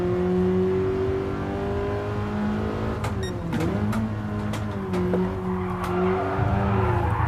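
A race car engine in Gran Turismo on PS4 holds a steady tone, then dips and climbs through quick gear changes, with a brief burst of sharp noise midway; no one talks over it.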